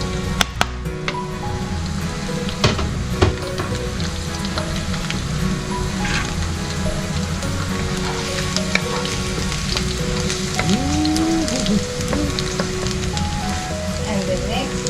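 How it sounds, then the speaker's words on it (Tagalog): Garlic sizzles steadily in a hot pan for Filipino pancit canton, a dense close frying hiss with occasional clinks and stirring sounds, and a voice briefly audible underneath. "Okay, I have to saute the garlic."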